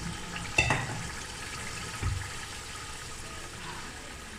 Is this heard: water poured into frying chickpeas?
yes